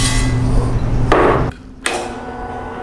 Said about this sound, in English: My drill press is running at about 600 RPM.